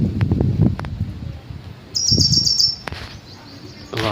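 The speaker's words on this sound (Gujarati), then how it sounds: "વાહ આ પક્ષી." A bird chirps outdoors on a farm in short, bright bursts, a quick series of high tweets in the middle and another burst at the end, over low rustling and faint background voices.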